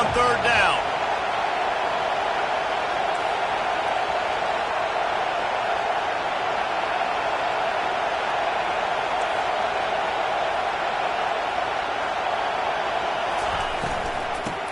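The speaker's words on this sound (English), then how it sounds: "Decibels rising as the crowd gets behind this defense on third down." A football stadium crowd roars on third down, a dense, steady wall of cheering and noise that holds loud for the whole stretch, close and continuous.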